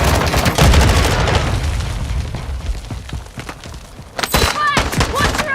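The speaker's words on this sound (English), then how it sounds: "Tossing grenade." A video game grenade blasts amid dense bursts of gunfire, loud and continuous at first, then a brief lull before more sharp shots and booming hits close by.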